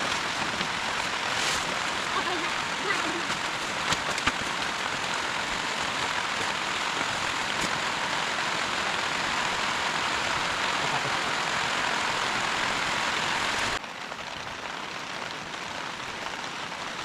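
Heavy rain falls steadily through the night outdoors on a windy trip, a dense continuous hiss that stays loud and even, dropping slightly in level near the end.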